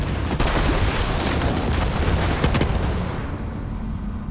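A large tank canister exploding after being shot in Borderlands 3, producing a loud, sustained roaring blast that holds for a few seconds before fading into a quieter rumble.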